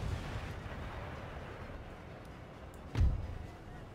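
Musket fire in Empire Total War with Darthmod, a battle against the Mughals, as low battlefield rumble with one sharper, louder volley boom near the end over a faint continuous background.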